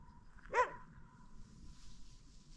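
A single dog bark rings out outdoors in a quiet countryside setting, one short sharp burst standing clearly above a soft background hum and faint ambient noise.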